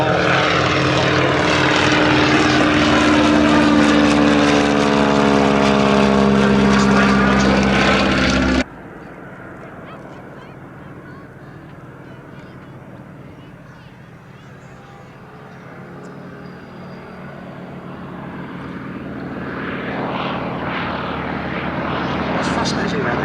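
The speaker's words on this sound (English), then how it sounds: "Executive Boeing-Stearman getting airborne, starting their display shortly" A Boeing-Stearman Kaydet biplane getting airborne for a display: a loud, steady radial propeller-engine roar dominates, then drops off sharply and continues as a distant drone that slowly swells again as the aircraft returns.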